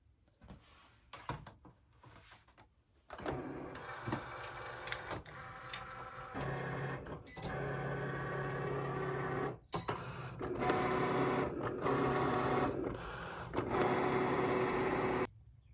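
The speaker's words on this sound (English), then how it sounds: "slide my little pad in here in my Cricut, and I'm going to cut all this out" A Cricut cutting machine cuts letters from a mat with whirring motor runs and short mechanical clicks and buzzes, close and steady, the activity shifting in pitch as the blade moves.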